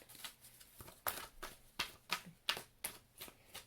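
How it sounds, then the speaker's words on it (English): A rapid series of crisp papery slaps and riffles in bursts as angel cards are shuffled, close by, with short pauses between them and no talking. "shuffle angel cards and just see what comes out for you,"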